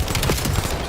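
Rapid gunfire from a Call of Duty: Black Ops 7 esports match, a brief dense burst of shots that fills the short moment, loud and continuous.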